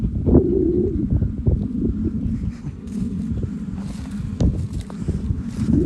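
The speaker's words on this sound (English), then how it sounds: "It's very windy at the moment." Strong wind buffeting the microphone outdoors as a drone flies, a steady low roar with gusty surges throughout and no talking.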